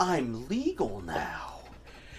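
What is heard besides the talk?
No everyday noise stands out behind the speech.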